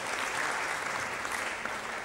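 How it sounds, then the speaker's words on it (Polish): Dense, steady applause from an audience at a corporate awards ceremony during a CSR fair in Poland, an even wash of clapping that fills the whole moment with no speech over it. "Poproszę Państwa o brawa."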